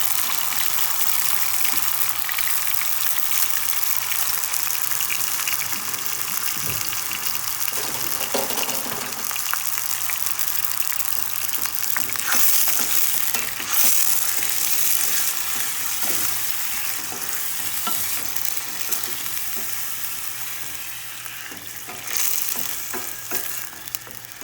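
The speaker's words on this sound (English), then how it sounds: "so I added the rice to the oil" Rice sizzles and fries in hot olive oil while being stirred for oil rice, a loud continuous crackling hiss with scraping stirs close up and no talking.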